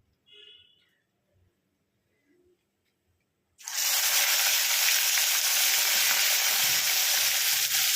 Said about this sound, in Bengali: প্রথমে আমি মাছের মাথাটাকে ভেজে নেব।